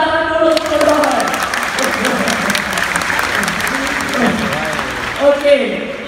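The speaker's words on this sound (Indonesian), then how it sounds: "Tepuk tangan dulu untuk Roy." A crowd at a live talk show claps loudly for a guest, sustained dense applause with voices and a few cheers mixed in, swelling briefly near the end.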